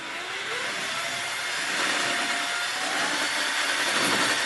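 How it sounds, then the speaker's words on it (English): A high-pitched whirring motor runs continuously, like a cordless drill churning through thick batter, loud and close. "going to use his cordless drill"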